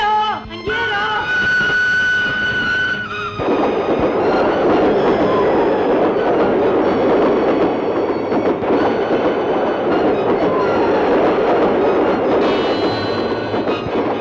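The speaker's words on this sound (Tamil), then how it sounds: "சாமி, இந்த ரயில் அந்த இடத்துல நிக்காம போயிட்டே இருக்க சாமி." An express train races past a small station without stopping, a loud, steady rumble of wheels and carriages with clickety-clack and faint squeals filling the scene from start to finish.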